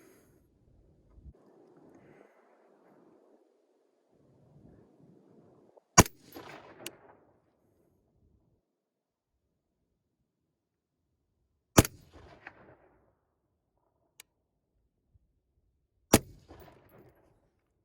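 Rosco Purebred rifle fired at a target outdoors: three sharp, loud gunshots spaced several seconds apart, each with a short ringing tail, with faint handling noises and breathing between shots.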